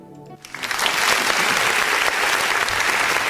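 A church congregation bursts into applause at the close of a service, a sudden dense wash of clapping that swells quickly and holds loud and steady.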